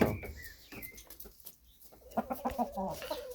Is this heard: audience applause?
no